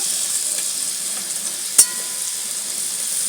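Chopped vegetables with ivy gourd greens fry in a pan, giving an even, continuous close sizzle with a single sharp click of a utensil partway through.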